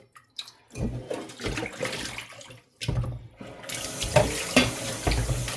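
Water runs from a tap into a sink in uneven splashing bursts, close by, as something is rinsed under the stream.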